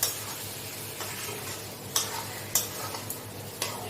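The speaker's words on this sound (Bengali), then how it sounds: "এই যে লোটে মাছগুলো আমি এর মধ্যে দিয়ে দিলাম।" Lote fish, Bombay duck, frying in a cooked-down spice paste in a pan: a soft sizzle broken by several sharp scrapes and knocks of a spatula stirring, close by and unaccompanied by speech.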